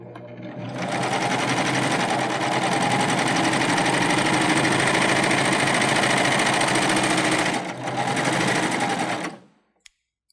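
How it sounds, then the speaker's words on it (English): A Baby Lock Euphoria cover stitch machine sews a narrow cover stitch on very lightweight jersey, a loud, close, fast rhythmic whir running nearly nine seconds with one brief dip before stopping. "let's go to a narrow cover stitch, and I'll show you how easily the Euphoria handles very lightweight jersey"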